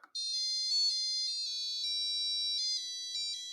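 A Databot plays a song as a thin, high-pitched electronic beeping melody, steady and fairly quiet, with near silence beneath it.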